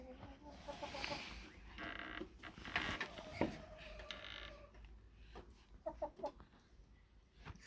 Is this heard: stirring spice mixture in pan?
no